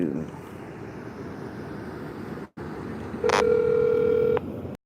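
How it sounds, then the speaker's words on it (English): A telephone during an outgoing call: a steady hum of background noise, a short dropout, then a loud, clear multi-tone beep or dial tone holding for about a second before cutting off. "I'm just gonna make a phone call."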